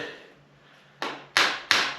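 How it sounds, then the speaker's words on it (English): Hammer striking in a steam locomotive pattern workshop, three sharp metallic-wooden blows spaced evenly in quick succession after a faint fading ring, heard alone. "use hammer."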